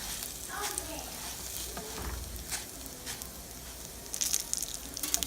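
Rice sizzles and fries steadily while browning in a pan on a single gas burner, with occasional stirring scrapes and sharper crackles building near the end, close and continuous.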